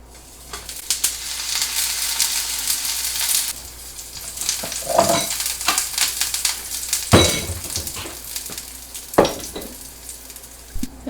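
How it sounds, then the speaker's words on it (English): A veggie burger sizzles and fries steadily in a hot pan, with scattered clinks and scrapes of a utensil and louder pops near the middle and end, no talking. "We're going to add this veggie burger."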